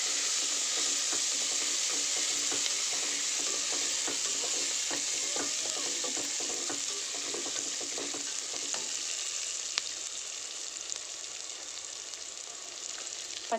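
Green peas frying and being stirred in a pan for a gourd and drumstick biryani, giving a steady, close sizzle that runs without pause, with occasional scrape accents and no talk.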